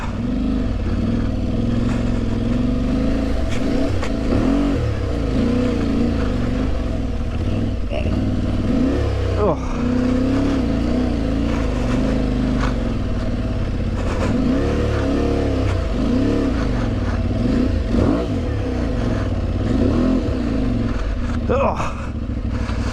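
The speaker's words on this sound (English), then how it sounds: "I've just been wheel spinning all the way through that" An Aprilia Tuareg 660 motorcycle spins its rear wheel through a boggy, muddy trail, its engine revving hard and loud without a break, with surging and clattering through the drive.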